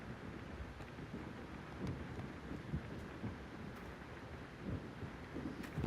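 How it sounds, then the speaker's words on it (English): Steady rain with low rumbles of thunder in the mining game Gold Mining Simulator, a continuous even wash of rainfall with soft distant rolls underneath, no talking. "Means it must be raining."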